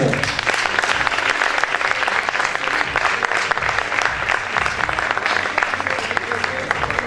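A crowd applauds candidates at the Miss Aisne 2020 pageant results, dense sustained clapping filling the room steadily throughout.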